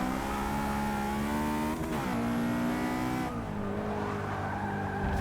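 A Class C Honda S2000 races in Forza 6, its engine revving hard and shifting with tires squealing as the slightly loose car pushes through corners, loud and close without talk.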